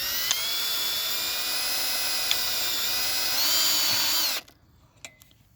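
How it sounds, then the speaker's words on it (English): A power drill whines steadily and loudly as it drives screws into wood rails, pitch climbing just before it stops abruptly, followed by a few faint knocks in the quiet. "Just drill it right in."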